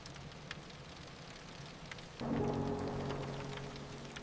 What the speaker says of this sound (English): We sat there quietly, listening to the rain.